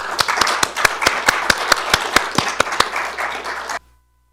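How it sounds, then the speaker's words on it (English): A small meeting-room audience claps for two retiring Planning Commission members at a county planning meeting, a sparse, uneven patter of individual hand claps with sharp distinct strikes that stops abruptly. "Please join me in giving Mr. Nelson and Mr. Neddenriep, with your permission, Mr. Chairman, a round of applause"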